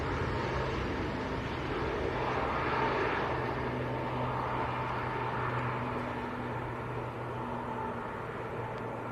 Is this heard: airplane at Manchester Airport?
yes